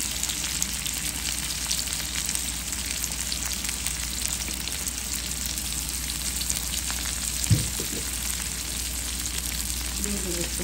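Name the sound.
papaya, onion and chillies frying in a pan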